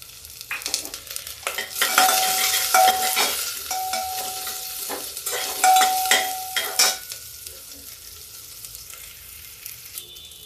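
Onion frying in a pan with fennel seeds added for a matar gwar fali sabji, a close sizzle broken by repeated stirring scrapes and spoon clinks against the pan, settling toward a quieter fry at the end.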